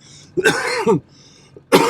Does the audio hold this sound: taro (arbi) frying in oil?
no